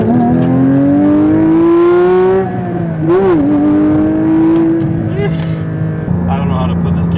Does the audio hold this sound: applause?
no